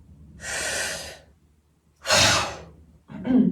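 Slow, deep breaths drawn audibly through the mouth in a breathing exercise, two long airy inhales with a pause between and a shorter breath at the end, close and alone.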